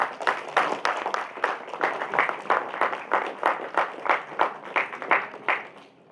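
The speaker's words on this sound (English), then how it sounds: "A big round of applause, guys." An audience at an inauguration ceremony claps for about six seconds in a fairly close, rhythmic burst of applause that stays steady and then tapers slightly, with no one speaking over it.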